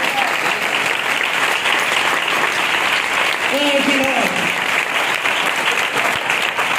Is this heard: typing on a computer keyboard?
no